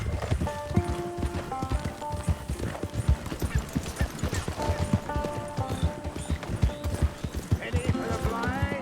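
Horse hooves clip-clop at a steady walking rhythm in the Red Dead Redemption 2 video game, close and continuous beneath voices and a musical score.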